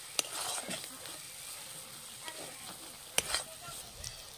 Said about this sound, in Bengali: মশলাটা আবার ভালো করে কষিয়ে নেব। এটা একদম কিন্তু হালকা আঁচে করতে হবে।